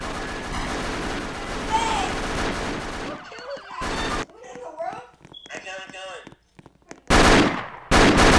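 Bursts of automatic gunfire in a video game bank shootout, loud rattling volleys separated by gaps, with excited talk from a player running through much of it.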